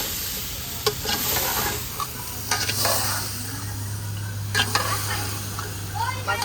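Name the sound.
stirring potatoes and peas frying in masala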